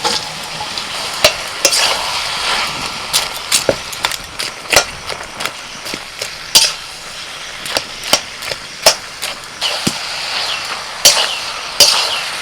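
A spoon stirs cabbage curry with fried potatoes and a fish head in a sizzling pan, producing steady frying hiss punctuated by sharp scraping and clacking knocks against the pan, all close and without talk.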